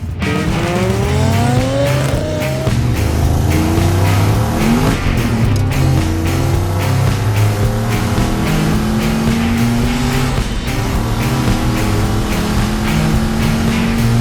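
A project car on a half-mile shakedown pass at a racing shootout roars loudly up close, its engine climbing through repeated rising gear pulls with shifts between them, sustained throughout.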